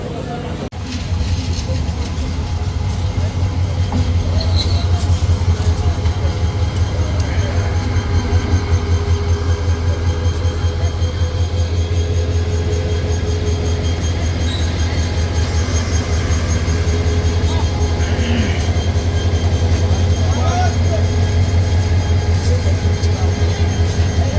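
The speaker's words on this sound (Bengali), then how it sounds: "চলুন আপনাদেরকে শান্টিং দেখাই" A Sagarika commuter train locomotive shunts at Laksam junction, giving a loud, continuous rail rumble and clatter that carries on for the whole stretch.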